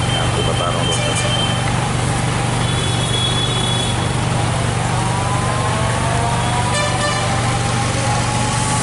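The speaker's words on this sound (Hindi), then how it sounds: "देख सकते हैं आप एक और एक जैसे बड़ा सा इंजन आ रहा है" Large engine vehicle approaching at a busy bus stand, a steady low rumble with a rising whine, under constant traffic noise, with a brief horn-like tone partway through.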